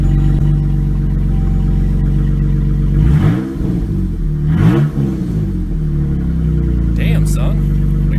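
A Jeep Grand Cherokee 3.6L engine running with no exhaust fitted, loud and raw at a steady idle, with two quick revs rising and falling midway.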